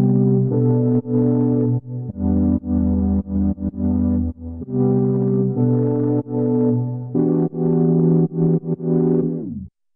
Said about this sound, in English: I'm going to go and just select the synth here.